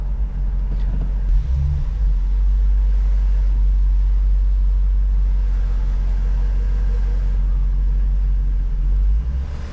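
A 2009 Dodge Challenger SRT8 with a six-speed manual is driven at night, its engine giving a loud, continuous low rumble that holds steady with slight swells from start to finish. No one speaks.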